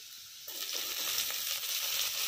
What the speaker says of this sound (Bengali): গাজরটাকে হালকা করে ভেজে নিয়েছি। এবার বিনস দিয়ে দিচ্ছি।